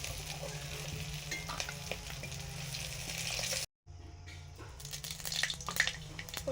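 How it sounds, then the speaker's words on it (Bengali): Fish frying in oil in a home kitchen produces a soft, steady sizzle with scattered crackles and clinks, briefly cutting out before resuming with some handling noise as the pieces are lifted out. "মাছ ভাজা হয়ে গেছে, তুলে নিচ্ছি"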